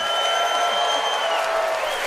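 Studio audience of a comedy debate show applauding to vote for a contestant, a brief burst of crowd clapping with whistle-like tones above it.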